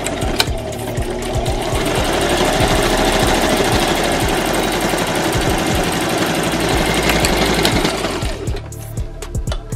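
A sewing machine runs fast and steadily, stitching along the edge of a fabric face mask with a dense, even rattle close up. It slows and stops near the end with a few separate clicks.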